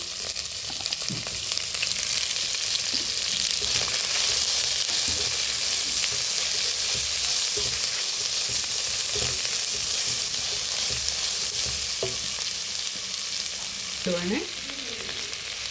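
Sliced onions and three green chillies frying in a pan for upma give a loud, dense, continuous sizzle with occasional stirring scrapes, close up and with no talking.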